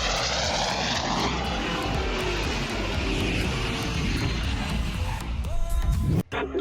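An airplane's propeller engine roars loud and steady as it comes in to land on a runway, a dense continuous drone that briefly cuts out near the end.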